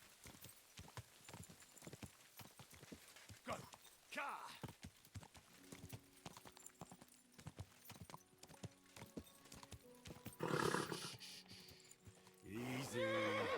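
A horse in Kingdom Come 2 clip-clops in a sharp, steady rhythm of close hoofbeats, then lets out loud neighs and snorting whinnies toward the end.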